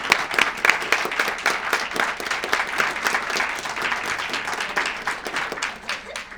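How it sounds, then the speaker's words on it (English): An audience at a school awards ceremony claps for parents, guardians and teachers in dense, sustained applause that holds steady and then begins to thin toward the end. "who deserve a big round of applause"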